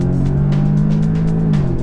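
A car in a drag race between a 2015 Audi S3 and a BMW 228i holds a loud, steady engine drone on launch control, close and continuous, with a slight drop in tone near the end.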